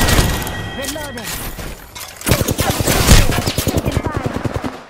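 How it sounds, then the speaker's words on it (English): Rapid automatic gunfire in a shooter video game, loud bursts in dense stuttering rhythm, strongest in the second half, over game sounds with a voice talking at times. "I am taking fire, friends."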